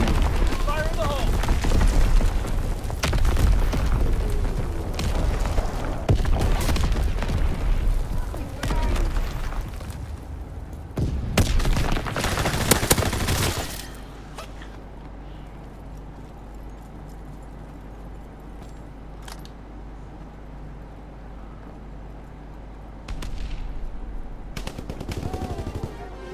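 Call of Duty WW2 multiplayer gunfire on the Shipment map: dense, rapid bursts of rifle and machine-gun fire with booms during the first half, then a lull with distant shots, mixed with game voice callouts.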